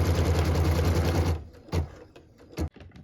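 A domestic embroidery machine stitches a cut line onto a quilt block in a hoop, a dense steady mechanical whir for over a second before stopping, followed by a couple of short clicks and knocks.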